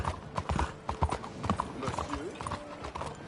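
Horse hooves clip-clopping in an uneven trot in Red Dead Redemption 2, with brief whinnies and a voice over the steps, all fairly quiet.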